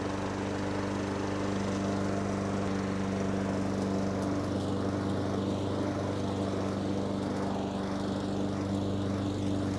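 A lawn mower engine runs continuously, a steady droning hum with strong low harmonics, moderately loud and unbroken throughout, with no voices.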